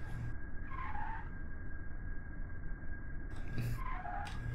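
A plane in Kerbal Space Program bounces and skids along the ground with its engine switched off, giving two short squealing scrapes over a constant low rumble of rolling noise.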